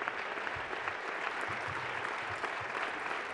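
Applause fills the Teatro de Rojas at an institutional Regional Day ceremony, steady, continuous clapping from a large seated audience, heard at moderate distance and fairly soft.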